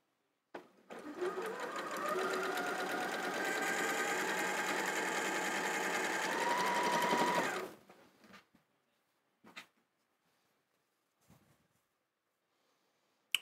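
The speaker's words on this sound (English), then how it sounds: "I'm going to sew off that little block." A 560 sewing machine stitches quilt blocks in one continuous, steady whirring run of about seven seconds. It stops, and a few brief clicks follow in near silence.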